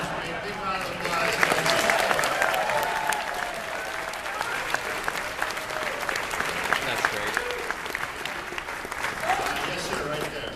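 Sustained audience applause at a horror and monster fan convention panel, loud dense clapping filling the whole stretch with some crowd noise, while a voice speaks briefly over it.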